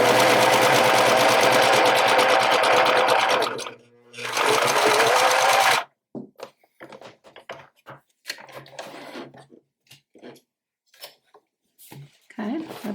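A sewing machine back-stitches a jeans waist seam, running loud and fast in close bursts for about six seconds with a brief pause, then stopping for scattered clicks and fabric handling with some speech.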